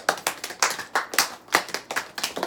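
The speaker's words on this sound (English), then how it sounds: "round of applause." A small group claps together in a brief burst of quick, irregular hand claps, close and moderately loud, with no talking over it.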